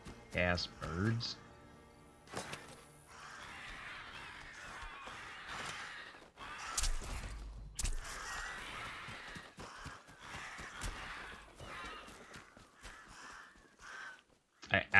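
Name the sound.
crows attacking the player in the video game Atomfall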